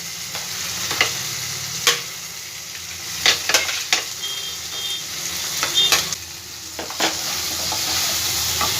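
Potatoes and lentil dumplings stirred into sizzling frying masala in a pan for a brinjal curry, with a steady oil sizzle and irregular scraping stir strokes and clinks, close and alone.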